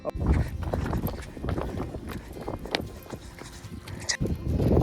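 Horse nearby in a Himalayan mountain village in Niti Valley, hooves clip-clopping irregularly amid busy outdoor background noise, fairly close and moderately loud.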